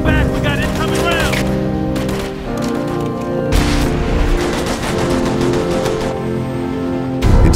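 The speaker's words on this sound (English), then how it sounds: "We got incoming rounds!" Incoming gunfire in the Operation Flashpoint: Red River trailer, with dense, sustained automatic bursts and occasional heavy impacts that continue for the whole span, mixed with a loud battle din and a voice calling out.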